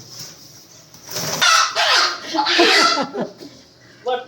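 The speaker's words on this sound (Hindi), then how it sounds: "ये मुर्गी बड़ी प्यारी है" Chickens clucking in a yard, a string of short close clucks and squawks with some rustling and flapping, no talk.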